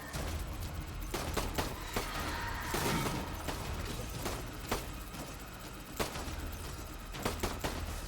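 Gunfire and grenade blasts from the Death Stranding video game pop in scattered sharp bursts over a dense, constant background of combat noise, without talk.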